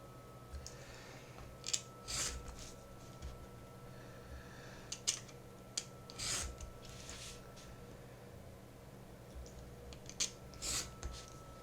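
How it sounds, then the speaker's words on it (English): Scissors cut out black paper shapes, giving scattered sharp snips and short bursts of cutting over a steady low room hum, with irregular pauses between the clusters. "I'm cutting out each black shape here"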